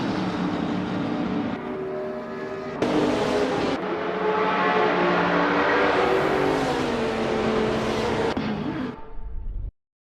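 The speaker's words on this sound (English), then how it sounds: "The 2016 BMW M6 GTLM is definitely not electric. It's all about that good old combustion roar." A 2016 BMW M6 GTLM race car in a racing video game, its combustion engine roaring loud and close with gear changes and rising revs before cutting off abruptly.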